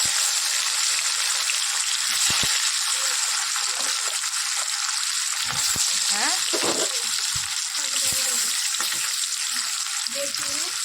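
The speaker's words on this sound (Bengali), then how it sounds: "মাছে তেলও আমার গরম হয়ে গেছে। চলো একজন একজন করে দিয়ে দিই" Turmeric- and salt-rubbed fish fries in hot oil in a home kitchen with a fan running, giving a continuous close, crackling sizzle with occasional sharper pops. A voice briefly says a word over it.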